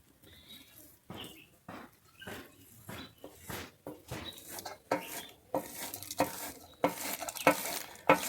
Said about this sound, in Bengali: ঝুড়ি দিয়ে আমি তালটাকে ছড়ে নিচ্ছি আমি তালের মাঠটাকে এইভাবে বের করে নেবো